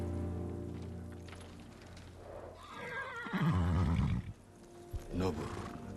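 A samurai horse whinnies in Ghost of Tsushima, a loud rising neigh around the middle with a shorter snort or call near the end, heard over game music and low ambience; a voice speaks earlier in the scene.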